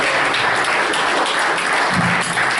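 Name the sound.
audience applause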